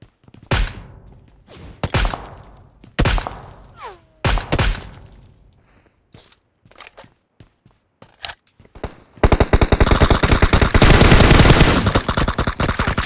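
Video-game gunfire from PUBG Mobile: several separate loud shots and bursts early on, then a dense, sustained stream of rapid automatic fire in the final few seconds.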